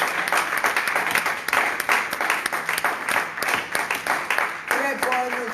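A church congregation applauds and cheers after a closing morning prayer, a steady wash of clapping held at even strength throughout, with voices calling out over it.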